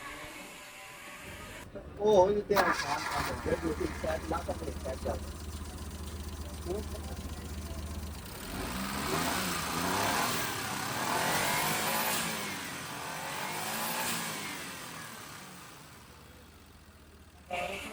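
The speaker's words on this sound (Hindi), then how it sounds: "अभी रेस भी ठीक ले रही है गाड़ी।" A Suzuki Jimny with a starting problem cranks and fires up with a sharp burst, then settles into a close, steady idle before its engine is revved in rising and falling swells, with voices talking over parts of it.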